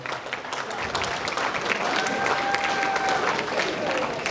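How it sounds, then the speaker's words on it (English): Wedding guests give the matron of honor a warm round of applause, a full, continuous crowd clapping that swells and holds, with a few voices and cheers mixed in. "Big round of applause for the matron of honor."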